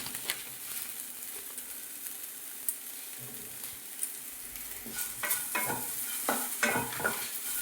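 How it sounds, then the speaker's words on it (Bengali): Vegetables, teasel gourd (kakrol) and potatoes with green chilli and nigella seeds, sizzle and fry in a pan while a utensil stirs and scrapes them, with soft clinks toward the end; close and fairly quiet. "একটু লাল লাল করে ভাজা হবে"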